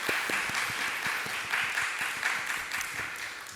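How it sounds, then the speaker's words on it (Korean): A church congregation at a Wednesday worship service applauds as a blessing for a women's group, with even, sustained clapping from many hands at a moderate distance. "우리 한나 여전들을 위해서 다시 한번 큰 축복의 박수 부탁드리도록 하겠습니다."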